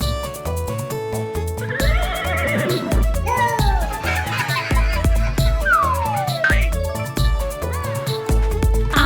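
A horse neighs and whinnies for a child's pretend stick horse made from a grandfather's walking cane, the calls rising and falling over a loud, busy comic music bed with soft hoof-like clip-clop.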